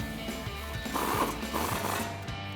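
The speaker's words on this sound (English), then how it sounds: "reinstall our nut, and then tighten that down with an 18mm swivel socket." Ratchet with an 18mm swivel socket tightens the upper control arm ball joint nut on a 2011-2023 rear-wheel-drive Charger, giving a faint, evenly spaced run of clicks heard alone.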